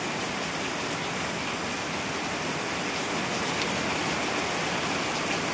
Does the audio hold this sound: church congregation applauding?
no